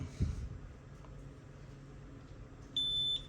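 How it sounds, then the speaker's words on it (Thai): An ATS886 tracing projector gives one short steady electronic beep as it switches on, heard close over a low hum of room noise, with no talking. "กดค้างจนมีสัญญาณเสียง ปี๊บนะครับ"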